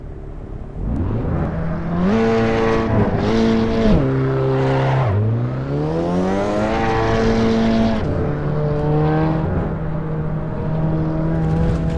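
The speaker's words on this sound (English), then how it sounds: "First off, starting out with some engine sounds." A race car engine in the video game Assetto Corsa EVO whines through repeated gear shifts, pitch climbing and dropping in steps, loud and continuous with a synthetic, game-like tone.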